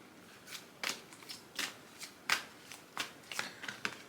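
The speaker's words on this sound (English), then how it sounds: "So I think I want to pull a card collective today." A deck of oracle cards shuffled by hand, about a dozen quick riffling bursts in an irregular rhythm, close and fairly quiet, with no voice over them.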